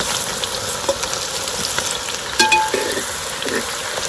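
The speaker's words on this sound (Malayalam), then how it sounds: "എണ്ണ ചൂടായിരിക്കുകയാണ്. അപ്പോൾ നമ്മളതിലേക്ക് കുനുകുനാന്ന് അരിഞ്ഞ് വെച്ചിട്ടുള്ള വലിയ ഉള്ളി നമ്മൾ ചേർത്ത് കൊടുക്കുകയാണ്" Finely chopped large onions fry in hot oil with a loud, dense sizzle, with a few clinks and scrapes of stirring and a brief metallic ring partway through.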